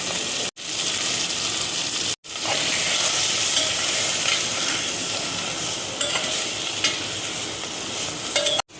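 Paneer masala with salt, turmeric, coriander powder and a splash of water frying in a pan, a loud continuous sizzle with occasional stirring scrapes, briefly cut off twice near the start, with no speech.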